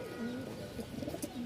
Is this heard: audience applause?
no